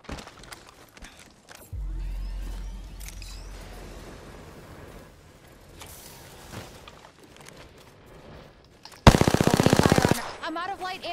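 Automatic weapon fire in the shooter game Apex Legends: a long, loud, rapid burst near the end, with some quieter distant shots and game effects earlier, and a low rumble partway through.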